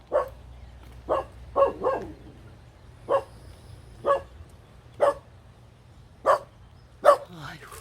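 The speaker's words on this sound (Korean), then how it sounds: "복돌아 짖지마" A dog barks outdoors beside a flower garden, about nine sharp, separate barks spaced a second or so apart, fairly close and loud over a low steady hum, with no talking.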